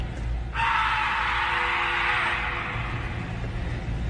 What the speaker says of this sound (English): the scream sounds exactly the same both times